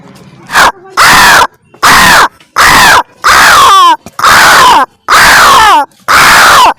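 A man on a comedy stage uses his voice to imitate a crow cawing. He gives eight loud, harsh, evenly spaced caws close to the microphone, with no other talk.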